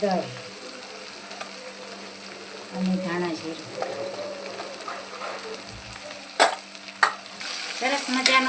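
Tempering spices sizzle in hot oil for a ridge gourd curry, with stirring scrapes and a couple of sharp metallic clanks near the end.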